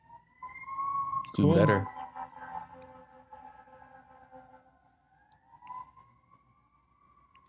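An emergency siren wails outside, rising and falling in a long sweep at moderate distance. A brief loud thump cuts in early, and people talk now and then over it.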